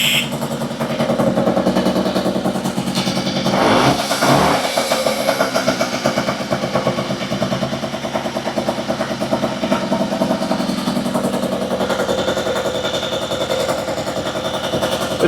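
A Puch Maxi E50 moped engine runs close and loud after a rebuild, a rapid rattling two-stroke putter held steady, with a brief rev surge near the start before settling into an even running note.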